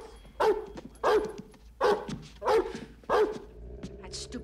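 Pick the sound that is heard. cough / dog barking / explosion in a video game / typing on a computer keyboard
dog barking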